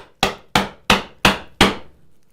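A mallet strikes a chisel cutting a mortise in wood, giving five sharp, evenly spaced knocks, each ringing briefly and fading. The blows are close and loud, with no talk.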